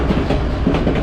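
A train on the White Pass railway rolls steadily along, its wheels and cars producing a continuous low rumble with faint clickety-clack beats, close and loud throughout the short stretch.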